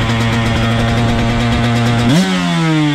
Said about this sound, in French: Ripping the two stroke, comme on dit aux US. Et la KTM Factory avec les sponsors.